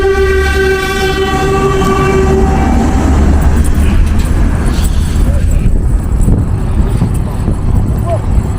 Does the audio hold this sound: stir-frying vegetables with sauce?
no